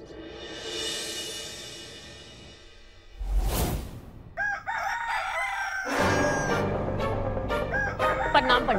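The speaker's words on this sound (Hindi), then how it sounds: "राम नवमी के दिन हमें बांग देकर उठा रहा है, पर है कहाँ वो?" A rooster crows in a house on the morning of Ram Navami, a loud harmonic call after a sharp whoosh, then more crowing and clucky calls, fairly close and alone.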